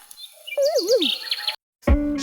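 An animated crow calls in a cartoon story: a few swooping, wavering cries over a bed of chirps, a brief silence, then a louder burst at the end.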